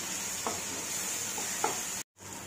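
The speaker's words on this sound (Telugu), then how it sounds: "ఇప్పుడు దీని అంతటిని బాగా కలుపుకోండి" Ginger garlic paste and chili powder being stirred into an onion milk curry in a hot pan, a steady low sizzle with two soft scraping strokes of the spoon, close and without talk, broken by a brief dropout near the end.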